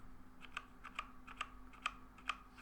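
Keys on a Logitech G413 mechanical keyboard are pressed one at a time in a slow, even series of about seven soft, close clicks in a quiet room.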